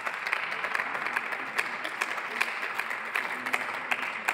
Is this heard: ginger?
no